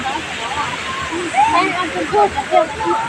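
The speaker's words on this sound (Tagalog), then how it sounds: "Kakaibang fountain. Nasa taas yung kanyang parang shower lang." A mall water fountain sprays down from above like a shower, a steady hiss of falling water with splashes and voices nearby.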